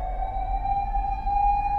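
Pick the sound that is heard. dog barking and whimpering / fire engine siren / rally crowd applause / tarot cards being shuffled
fire engine siren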